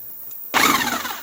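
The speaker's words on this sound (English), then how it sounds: "I got a corded half-inch impact with a 15/16 socket on there. And I'm just going to spin this guy off." Corded half-inch impact wrench with a 15/16 socket spinning a nut off a lawnmower, a sudden loud burst of whirring and rattling that starts abruptly after a moment of near silence and carries on briefly, close, with no talk.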